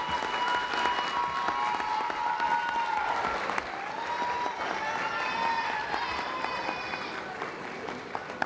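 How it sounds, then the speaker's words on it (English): Families at a school district board meeting applaud honored students with steady, moderately loud clapping throughout, while a few voices murmur and call out over the applause. "Please give them a big round of applause"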